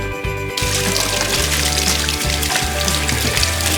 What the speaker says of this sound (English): run them under some cold water